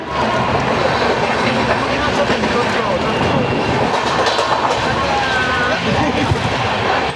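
Humsafar Express sleeper train pulling away from platform 12 bound for Jammu Tawi, a steady loud rumble of wheels and rail clatter with wind noise, continuous throughout.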